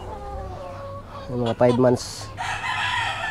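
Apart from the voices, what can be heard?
chickens clucking and rooster crowing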